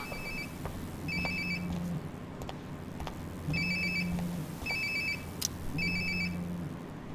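A phone rings in Life is Strange: Before the Storm with repeated electronic trill bursts over a low hum, fairly quiet and close, with no talking.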